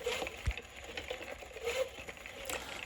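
A reciprocating mechanism drives a flywheel as a piece of 1x2 wood is pushed back and forth, producing a quiet, fast, steady mechanical whir and patter with a soft knock near the start.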